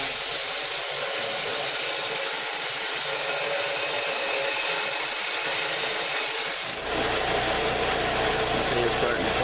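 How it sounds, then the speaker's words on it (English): An old belt sander fitted with a wooden belt grinds and rasps steadily as a saw-blade knife is run across it, loud and close, with the tone shifting partway through as pressure changes. "just running it across this old belt sander"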